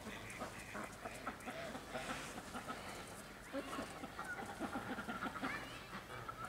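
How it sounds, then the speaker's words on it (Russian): Geese at a wildlife park honk and cackle in a busy, overlapping chorus at moderate distance, under fairly steady outdoor background noise. "Вон и гуси вышли. Га-га-га, гогочут."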